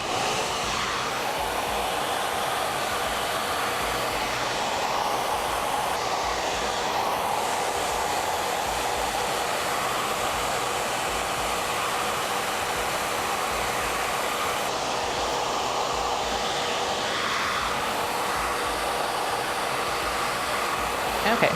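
Blow dryer with a diffuser running steadily at close range on a woman's hair, a continuous loud whooshing airflow with a fan whine that holds for the whole stretch, with only small shifts as the nozzle moves.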